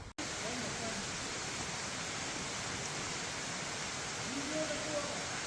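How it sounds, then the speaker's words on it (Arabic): A small waterfall in Lebanon pours steadily, a broad constant rush of falling water that stays loud and unbroken throughout, with faint voices now and then under it. "هون في شلال صغير"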